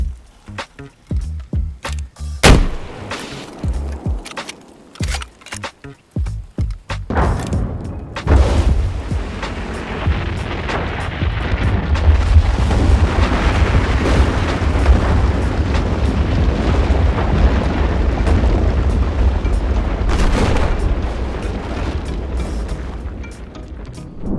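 Battlefield 4 explosions: a run of sharp, separate blasts and booms in the first seconds, then a long, loud rumbling roar of continuous detonations and debris that persists to the end, with no talk.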